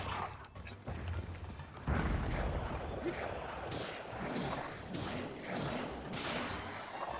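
Combat in The Legend of Zelda: Tears of the Kingdom: a dense run of shooting and impact bursts, thuds and clattering hits against an enemy. The blows come close and fairly loud and mix with game background noise.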